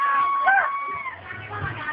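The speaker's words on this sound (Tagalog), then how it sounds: "Sigawan na sila." Children shout and cheer together while playing games in a computer shop, a brief, loud, close burst of excited voices.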